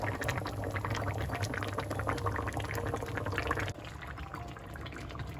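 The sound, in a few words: mustard fish curry bubbling as it boils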